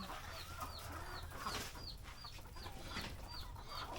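Chickens in a backyard poultry flock cluck repeatedly in a steady stream of short calls, with a constant low farmyard hum underneath.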